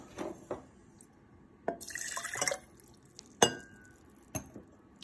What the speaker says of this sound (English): now I'm going to go ahead and add the water back.